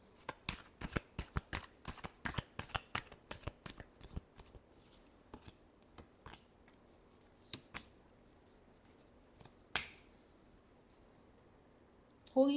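Tarot cards being shuffled close up, a quick run of crisp riffling flicks that slows into scattered single snaps and taps, with a brief voice at the very end.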